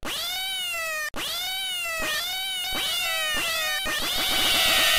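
Repeated cat meows from a browser mod's sound effects, a string of clear, loud harmonic mews one after another with a dense burst of quicker meows at the end, no talking.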